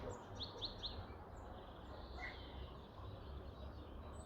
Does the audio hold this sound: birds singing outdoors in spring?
yes